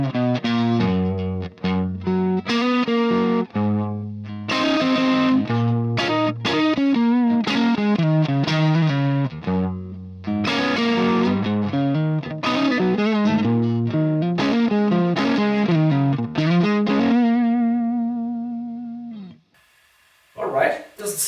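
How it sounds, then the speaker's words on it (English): An electric guitar with a slightly fuzzy, overdriven tone, guitar volume set low, plays a continuous busy riff of chords and single notes for about twenty seconds, loud and close, ending with a brief pause and a final strum. "looking for a tone that is slightly fuzzy and more on the overdrive side"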